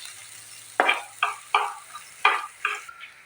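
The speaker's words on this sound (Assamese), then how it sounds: "পিঁয়াজখিনি মই 1 মিনিট সময় ভালদৰে ভাজি ল'লোঁ" Finely chopped onion fries in a pan, where a soft background sizzle is broken by five or six distinct scraping stirs of a spoon at roughly half-second intervals, heard close up with no voices.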